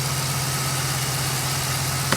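An ex-police car at a government auction, a Crown Vic, Caprice or Tahoe type, idles steadily close by with a smooth, even low hum and no voices, ending in a small click.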